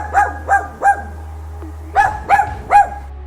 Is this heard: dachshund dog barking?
yes